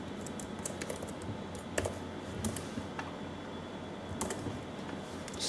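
Steady computer keyboard typing, quiet and fairly close, runs as a continuous patter of small clicks with a few louder key strikes and no voices.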